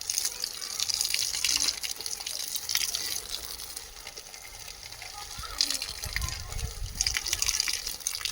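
Water runs steadily from a tap in a home garden beside spinach beds, a continuous hissing gush that swells and eases in waves, fairly close and alone without speech.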